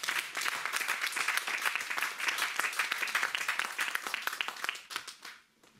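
A congregation at a French-speaking church service claps and cheers in praise of the Lord, a dense, steady wash of many hands that holds for about five seconds before tapering off into quiet.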